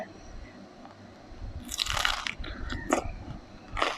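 Close, wet crunching bites and chewing of pon pla, a Thai fish dip, eaten with vegetables, with bursts of crunch in irregular rhythm over quiet rain-like background.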